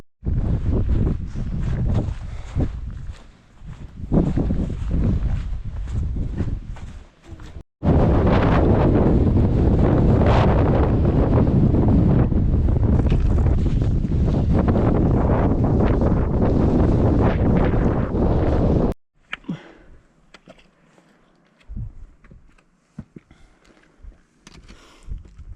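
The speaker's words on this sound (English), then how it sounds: "It's still quite gusty" Strong gusty wind on an open Lake District fell, buffeting the microphone in loud roaring bursts that rise and ease, with a long sustained blast before dropping to quieter gusts.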